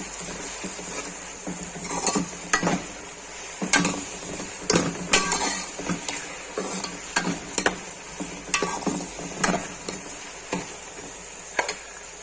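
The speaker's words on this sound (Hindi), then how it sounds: "स्टीर करेंगे प्याजों को" Onions sautéing in a pan for Rajasthani laal maas, stirred with a utensil that scrapes and knocks the pan in irregular clinks over a soft sizzle, heard up close without talk.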